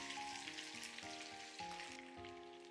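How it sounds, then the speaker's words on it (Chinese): Potato slices sizzle slowly in a wok over moderate heat, a soft, continuous frying crackle with faint stirring underneath, quiet and close, while tonal background music plays. "像视频中这样慢慢煸炒，把土豆片炒出香味"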